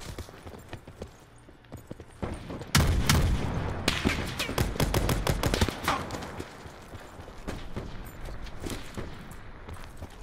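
Gunfire in the video game Call of Duty: Black Ops 4, with rapid bursts of shots, loudest in the middle of the stretch, over a steady background of game noise.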